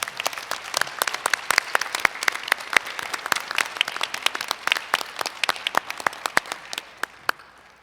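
Audience applause, a crowd clapping steadily and fairly loudly before the claps thin out and fade near the end.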